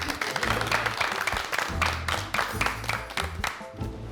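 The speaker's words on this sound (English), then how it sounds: "I clapped for myself." Audience members at a sewing competition applaud a designer in a burst of close, uneven clapping, with spoken voices breaking in over the claps.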